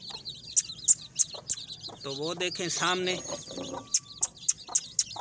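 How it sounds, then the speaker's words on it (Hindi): Hens and young chicks cluck and peep close by as they are called out, sharp repeated chirps throughout with a louder drawn-out cluck in the middle, while someone talks over them. "तो मुर्गी के बच्चों को बाहर बुला रहे हैं"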